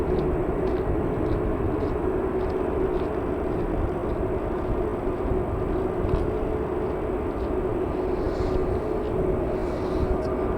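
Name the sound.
British Airways Airbus A320 airliner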